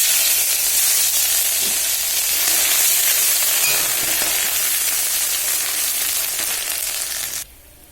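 Panch phoron spices and crushed ginger sizzle loudly in hot oil for a vegetarian chana dal, a dense continuous hiss close up that cuts off abruptly near the end.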